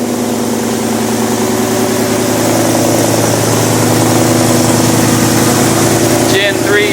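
A Ford Mustang with a Coyote 5.0 V8 and MagnaFlow exhaust idles close by, a loud, steady, deep burble with an even rumbling pulse, and a voice briefly talks over it near the end.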